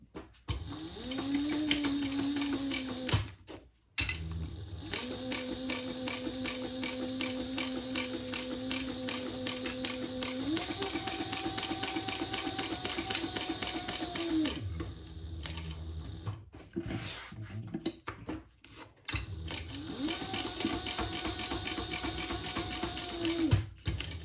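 Sewing machine stitching the corners and top edge of a retro-style fabric sling bag, running in several steady whirring bursts with short pauses and pitch changes between runs, close and continuous with no talk.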